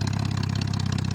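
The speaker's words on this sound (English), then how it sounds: "Now we have dual Lanza exhaust, Carol and I have on this car." Triumph TR6 from 1976 with dual Lanza exhaust, its engine running with a deep, throaty, rapidly pulsing exhaust note, heard close and fairly loud for a brief moment.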